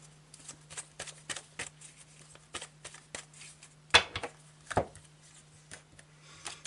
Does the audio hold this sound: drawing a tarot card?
yes